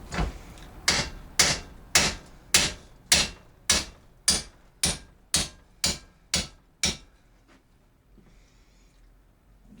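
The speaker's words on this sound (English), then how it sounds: "We'll just get our ball peen hammer and try and drive this baby out." A ball peen hammer strikes metal on an AC condenser fan motor about a dozen times in a steady rhythm, each blow ringing sharply and close, then everything falls quiet.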